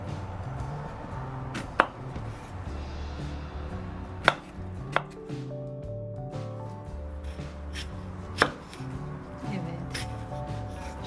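Steady knife chopping of cabbage and tomatoes on a board, quick repeated thuds continuing throughout with a few sharper knocks, while background music plays underneath.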